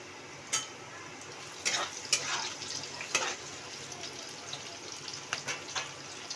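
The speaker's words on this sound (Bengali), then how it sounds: "পেঁয়াজগুলো একটু নাড়াচাড়া করে হালকা ভেজে নিতে হবে।" Onions and green chillies fry in a pan as they are stirred, giving a faint, steady sizzle broken by scattered scraping clicks and light clatter from the utensil.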